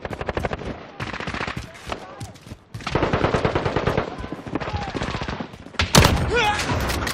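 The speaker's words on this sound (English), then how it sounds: "Enemy sentry gun active!" Rapid automatic gunfire from an enemy sentry gun in Black Ops, loud sustained bursts broken by brief pauses, with other game sounds mixed in.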